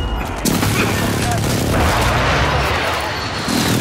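A loud, dense burst of rapid gunfire from the video game Call of Duty fills the moment, heavy and continuous with booming low end.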